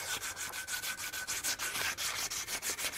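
Sandpaper rubs back and forth across a forged steel ball stake in a fast, even rhythm of close, rasping strokes, with no talk.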